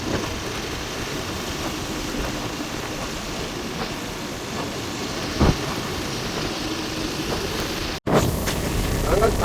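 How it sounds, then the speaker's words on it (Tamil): Heavy, windless rain pours down steadily in Kilinochchi or Jaffna, a dense, even hiss that fills the whole stretch with a brief knock midway and a short break near the end. "ஆனால் காற்று இல்லை, மழை பெய்யுது."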